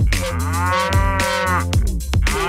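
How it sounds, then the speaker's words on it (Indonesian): A cow moos in a dinosaur-themed video game, two long, loud, drawn-out bellows with a tonal, rising-and-falling quality, heard alone and close. "Yang ini ada seekor sapi."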